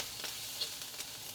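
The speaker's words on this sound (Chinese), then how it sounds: "再来翻炒一下，" Dried shrimp, garlic, shiitake mushroom and carrot stir-fried in a pan as a filling for yam bean buns, giving a faint, steady sizzle with a few soft scrapes of the spatula.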